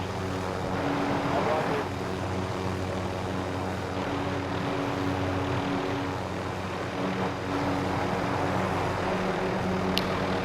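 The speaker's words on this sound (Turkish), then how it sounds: "Bu helikopteri nasıl kaldıracaksınız?" A helicopter in Call of Duty Warzone drones with a continuous, steady rotor and engine rumble that holds throughout, with voices talking over it.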